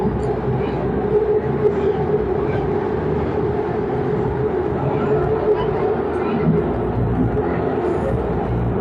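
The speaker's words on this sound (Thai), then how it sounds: "รถไฟด้านบนด้านล่างมา" A train rumbles past at Bangkok's Pathumwan intersection with a steady low roar and rattling, continuous throughout, fairly close and loud.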